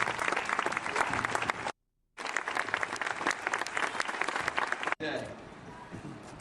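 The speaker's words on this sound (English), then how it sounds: "Let's give him a round of applause as well." Audience applause at the unveiling of a Connecticut memorial, sustained clapping from a gathered crowd broken by a brief cut of silence, then tapering into quieter room noise.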